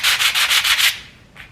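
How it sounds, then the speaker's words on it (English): Rough, raspy scraping of two sanding blocks rubbed together in six quick rhythmic strokes, then a short final scrape after a pause, close and fairly loud. "we can use our sanding blocks just like instruments"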